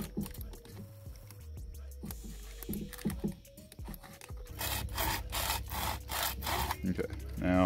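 Cutting a wide hole to fit a coin holder in a Chevy Silverado makes close, uneven rasping strokes, sparse at first, then quicker and denser toward the end.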